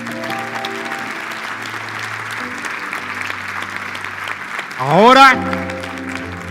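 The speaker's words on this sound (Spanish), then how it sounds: "Dale un aplauso fuerte." A church congregation clapping loudly after a salvation prayer, steady applause held under sustained organ or keyboard chords, with a voice calling out near the end over a brief swell.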